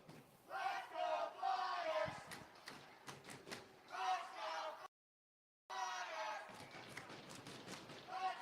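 Crowd noise at a 12U youth ice hockey game in Atlanta, rising in bursts of cheering and shouting around a puck drop, with a brief dropout midway and voices mixed through the swell.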